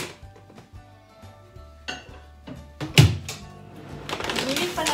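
Dishes, pots and pans clatter and clink in a sink, with irregular sharp knocks and scrapes, one loud bang near the middle, and running water rising toward the end, close by.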